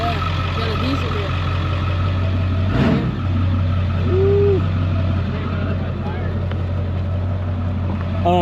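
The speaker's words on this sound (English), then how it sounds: "Yeah, got a diesel here." A diesel truck engine idles steadily at a motocross track, a constant low rumble running throughout with a brief louder burst midway and a voice speaking over it.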